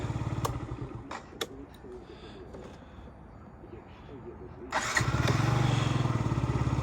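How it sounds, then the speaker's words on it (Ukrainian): A Yamaha Jog SA-36 fuel-injected scooter engine starting: a few clicks and a brief cranking attempt, a quieter pause, then the small engine catches at about five seconds and settles into a steady close-up running note. "Гарненько заводиться."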